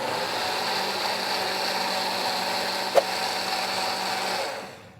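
A blender runs steadily, processing crepe batter made with melted butter, white sugar and salt, giving a constant mid-level whir with one sharp click partway through before the motor winds down at the end.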